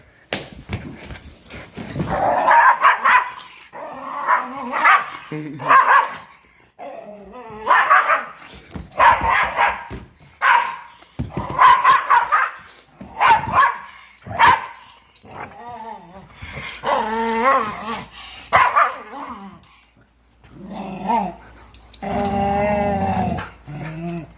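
A dog growls and barks in repeated bursts across the clip, close and fairly loud, with people talking in between and over it; a voice may also be imitating the growl.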